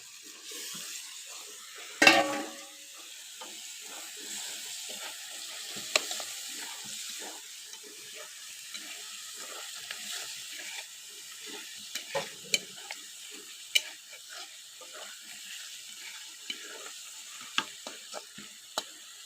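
Water hits a pan of sizzling Bengali-style chicken and potato curry, setting off a brief loud hiss and then steady low sizzling with occasional stirring clinks of a utensil.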